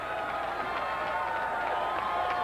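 Basketball arena crowd at a 1995 Indiana vs Illinois college game, a dense, continuous roar of cheering and clapping that stays loud throughout.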